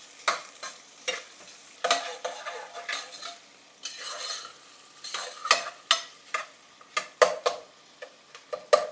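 Sliced onions and green chillies fry in a pot for a one-pot chicken pulav, a soft sizzle under repeated sharp metallic stirring scrapes and clinks of a spoon against the pot.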